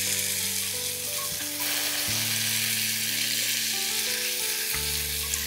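Boiled kabuli chickpeas go into a pan of hot Punjabi chole gravy, which hisses and sizzles steadily up close, with soft stirring and shifting sounds and no talking.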